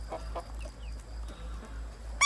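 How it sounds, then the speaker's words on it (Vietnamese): Free-range chickens in a garden flock make soft, scattered clucks in the early evening over a low steady hum, fairly faint and with no voices. "các bạn có thể nhìn thấy đàn gà của nhà mình đây"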